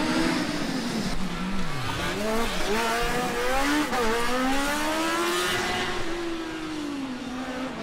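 A Formula Student race car runs an autocross course, its engine revving loudly and continuously up and down through gear changes, close and sustained with no talk.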